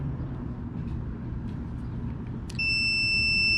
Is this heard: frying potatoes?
no